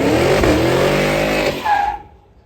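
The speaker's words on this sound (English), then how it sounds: "gonna see if this thing will do a burnout in rear-wheel drive" A cammed 2023 Cadillac Escalade V does a rear-wheel-drive burnout. The loud, close V8 roars and revs alongside tire squeal for about a second and a half, then a brief squeal fades out into quiet.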